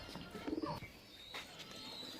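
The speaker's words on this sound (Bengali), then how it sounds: "এই দেখুন পায়রা" Kaldama pigeons in a loft give a few soft, low coos close by, set against faint background noise.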